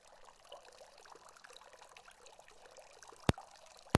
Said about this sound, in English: I'm having an interesting relationship with the running water ambient sound